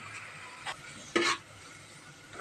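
Finely chopped onion and garlic dropped into hot oil with cumin and curry leaves for a dal tadka, giving two short, faint sizzling bursts with a quick stir in a pan, close by and quiet.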